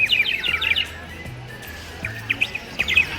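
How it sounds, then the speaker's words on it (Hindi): Small birds chirp and tweet in a temple courtyard, short bright calls arriving in quick clusters at the start and again near the end, moderately close over a faint steady hum. "चिड़ियों की आवाज़ कितनी सुंदर लग रही है ना।"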